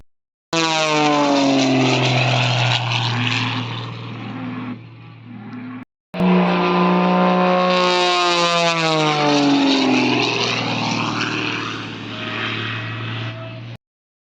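A propeller airplane drones loudly overhead at an air show near an airport, its pitch sliding as it passes, cutting out briefly before a second steady roaring pass.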